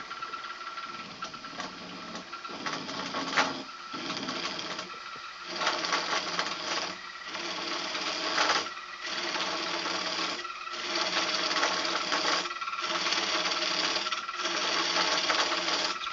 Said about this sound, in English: I'm going to do it with my skew. I like using my skew as a hollowing tool.